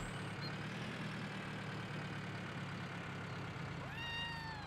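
A pet cat gives a short, faint meow near the end, rising then falling, over a constant low engine-like drone and steady background hum.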